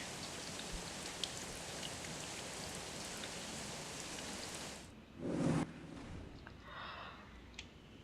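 Steady rain ambience from the video game Star Stable Online, a dense even hiss of falling rain with scattered drops that thins and softens after a brief louder swell near the end.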